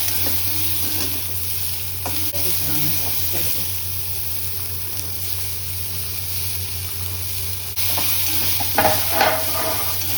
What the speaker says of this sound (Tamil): வெங்காயமும் போட்டு வதக்கிட்டேங்க